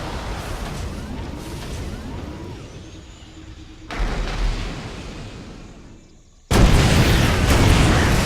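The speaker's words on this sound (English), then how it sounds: "I had to destroy my missile turret because I couldn't get out" A Terran missile turret blown up in a StarCraft 2 match against Zerg AI: heavy rumbling explosion bursts with sudden loud booms, then a big blast near the end amid game noise.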